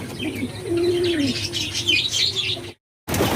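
Fancy pigeons in a loft coo steadily nearby, with chirps and light rustling layered over the calls before a brief silent gap, then the flock noise resumes.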